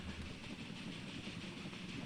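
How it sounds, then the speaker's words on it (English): A slow train rolls along in the video game Railway Empire 2, a low, steady rumble with faint clatter, quiet and continuous with no voices. "Very nice slow train as it makes its way."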